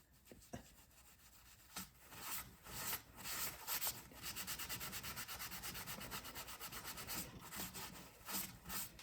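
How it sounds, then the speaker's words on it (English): Steady scraping and rubbing on the metal surface of an Ariens snow blower engine block, roughening the area around a hole before applying JB Weld, a continuous gritty rasp with short pauses and no talk. "scratch this up a little bit, just so the JB weld has kind of something to"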